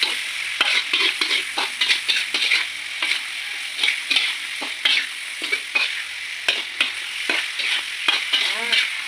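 Chicken liver with kecombrang leaves stir-fries in a pan, sizzling steadily while a spatula scrapes and clacks against the metal in a quick irregular rhythm, close and loud.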